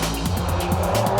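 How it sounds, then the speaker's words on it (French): A Subaru rally car on a pre-season test shakedown in the Quebec woods, its engine note loud and steady throughout with a low droning rumble and no voices. "a good test, a good shakedown for me in the new Subaru"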